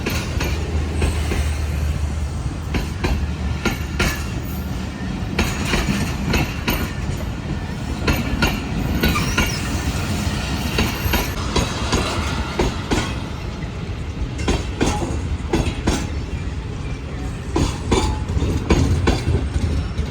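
Old-style passenger coaches of a Pakistani express train on the Karachi to Sehwan line roll past close by, with a steady clickety-clack of wheels over rail joints and rumbling noise that continues unbroken.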